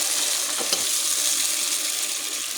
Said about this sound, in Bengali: জল সহ মশলা একসাথে দিয়ে দিলাম